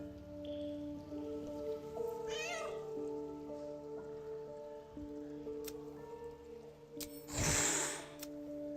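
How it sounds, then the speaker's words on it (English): Cat meowing in Baldur's Gate 3, a single drawn-out meow near the start over soft rain-like ambience and a steady low game tone, with a brief louder hiss of noise later. "The cat peers back."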